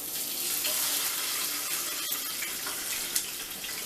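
Cheese fries in hot frying oil in a metal basket over a sink give a loud, continuous hissing sizzle, close by and steady, with a faint pop or two and no talking.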